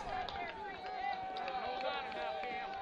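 Spectators at an Earlham versus Wisconsin-Oshkosh college baseball game, a steady hum of many voices with occasional shouts and whistling, fairly faint and continuous.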